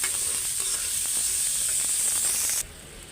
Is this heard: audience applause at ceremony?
no